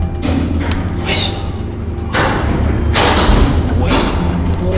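From inside a shipping container on a cargo ship, the box is hauled by a Mafi roll trailer, producing a heavy, continuous low rumble with dull thuds and shifts, loud and enclosed, with no talking.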